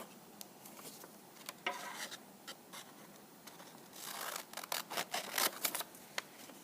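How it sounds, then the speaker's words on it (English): Scissors snipping along dotted lines on a half sheet of paper, a series of short, crisp close cuts in irregular bursts that grow busier toward the end, with no voices. "I want you to take your scissors and I want you to cut the dotted lines"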